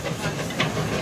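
Steam locomotive on a garden railway giving off a steady, close breathy hiss of steam with faint rail clatter, and a voice briefly underneath.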